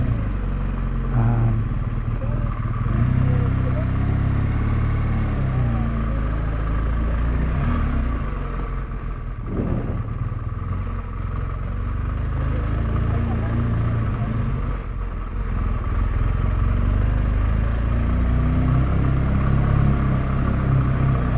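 A motorcycle on a touring ride through Portugal gives a steady, close engine rumble with wind buffeting for the whole stretch, while a rider's voice sits low under the noise.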